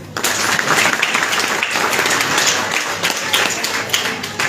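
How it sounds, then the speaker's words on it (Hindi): An audience at a motivational talk on family and success claps steadily and fairly loudly for several seconds, a dense sustained round of applause with no break. "ताली बजाइए एक बार।"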